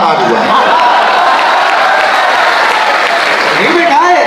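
Audience at a college poetry recital (kavi sammelan) at NIT Jalandhar bursts into loud applause mixed with crowd cheering and scattered voices, a dense sustained roar from start to finish.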